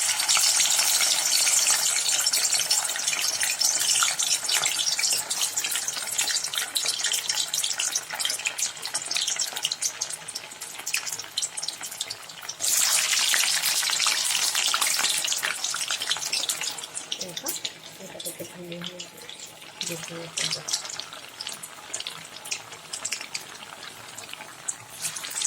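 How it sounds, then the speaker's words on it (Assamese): Potato smileys frying in hot oil on a high flame, a steady close hiss and crackle that holds throughout and eases slightly near the end. "মই গোটেইকেইটা অলপ অলপকৈ ফ্ৰাই কৰি ল'ম"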